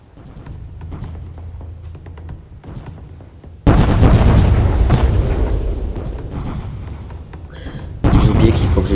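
Cannon fire from warships in the Roblox game Warships, loud booming blasts with a sustained rumbling roar, starting suddenly after a quieter stretch and then hitting again near the end.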